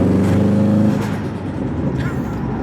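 A Subaru WRX STI rally build car with a misfire revs hard up close, its loud engine note dropping away, with a voice talking over it.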